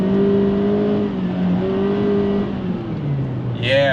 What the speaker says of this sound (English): Now I'm just gonna mash the pedal.